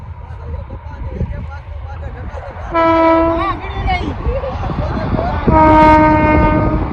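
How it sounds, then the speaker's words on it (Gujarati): A passenger train pulls into the Bhavnagar station area with a low rolling rumble. Two loud, sustained horn blasts sound close by, and voices can be heard in the background. "જો ટ્રેન આવી ગઈ છે."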